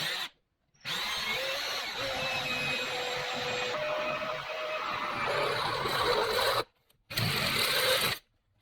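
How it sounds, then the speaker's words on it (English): A step drill bit bores through a painted metal pole for an LED parking lot light, a steady whining, grinding drill run lasting several seconds, briefly stopping and restarting near the end. "So now I'm gonna roughly put my hole in the center here, and I'm gonna use a stepper bit."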